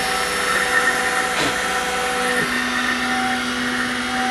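A CNC milling machine steadily cuts a rocker clamp part at a slow feed, giving a loud, continuous machining whine with steady tonal hums, one note shifting partway through.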